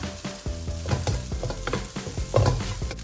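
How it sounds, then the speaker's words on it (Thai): Rice being stir-fried in a pan with egg and pork for egg fried rice, a busy scraping and clattering of the spatula over a steady sizzle, close up with quick irregular strokes and no talk. "ใส่ข้าวลงไปเลยพัดพัดพัด"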